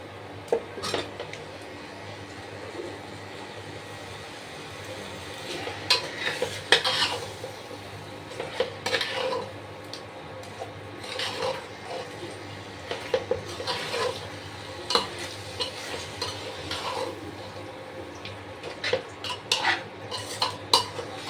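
Chicken pieces for biryani are stirred and sautéed with softened tomatoes in a pan, giving repeated metallic scrapes and clatters of a spoon against the pot over a low steady hum, fairly close and with no talking.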